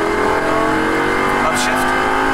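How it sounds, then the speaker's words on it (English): Lamborghini Gallardo engine pulling hard with the throttle floored, a loud sustained high-revving roar with rising tonal harmonics, close and continuous, while a voice talks over it. "All the way down on the gas pedal."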